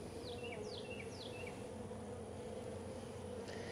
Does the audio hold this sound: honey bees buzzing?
yes